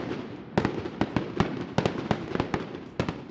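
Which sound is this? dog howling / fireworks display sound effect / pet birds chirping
fireworks display sound effect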